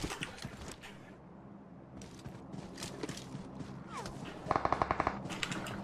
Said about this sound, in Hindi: भाई गोलियां चल रही है भाई